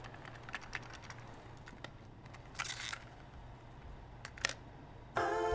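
Quiet, repeated taps on the M key of a computer keyboard, soft clicks at an uneven pace with a couple of louder keystrokes near the end.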